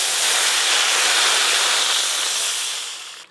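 Fried potatoes and water hitting a hot pan of frying chicken curry, a loud close burst of broad hissing sizzle that holds steady and then fades at the end, no voices.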